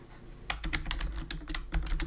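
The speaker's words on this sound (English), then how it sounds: "I'm going to type" Fingers tap quickly on a computer keyboard, a close, crisp run of uneven clicks and clacks lasting about two seconds, with no speech.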